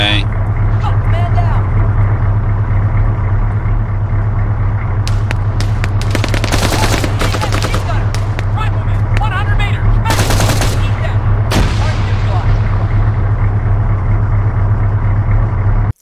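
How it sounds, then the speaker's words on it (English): Bursts of machine gun fire crackle over a steady vehicle engine drone during an ambush in the military game Arma 3, with rapid volleys clustered in the middle and shouting voices throughout. "Combat! Machine gun!"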